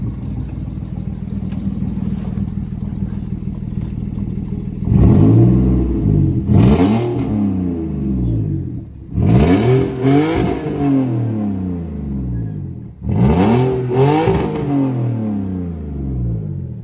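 A loud Audi A4 B6 3.0-litre engine with a straight-pipe exhaust idles with a raw, rough note, then revs hard four times in quick bursts, each rising and falling back to idle.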